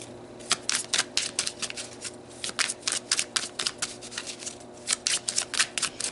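Tarot cards being shuffled and pulled from a deck, a run of quick crisp riffling bursts in irregular clusters, close and fairly loud, with no talking.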